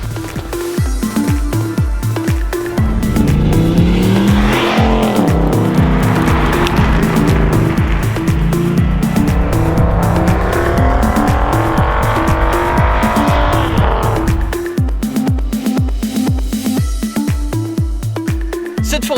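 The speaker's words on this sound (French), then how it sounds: "Ford Mustang V8 5 litres 2019 cabriolet." A 2019 Ford Mustang 5-litre V8 convertible driven hard on snow, its engine roaring loud and continuous, rising and falling in pitch with long revving surges and wheelspin throughout.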